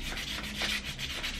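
Steady rubbing sandpaper strokes smoothing the sharp edges of a conversion kit, a continuous close scratchy sanding sound with gentle rhythmic swells, no voices.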